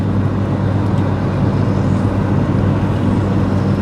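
A vehicle engine throttled back to about 2,900 RPM while climbing a grade, a loud, steady low drone with road noise filling the cabin continuously and no talking.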